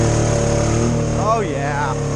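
Jeep Rubicon engine idling steadily in four-wheel drive on an off-road trail, a continuous mid-low drone with someone talking over it.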